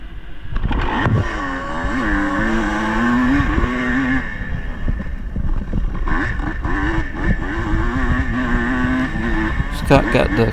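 Kawasaki KDX dirt bikes in a post-vintage 60+ motocross race roar off the start line together, two-stroke engines revving hard and rising in pitch, then a dense field of bikes snarls on, loud and close, with a voice talking over them.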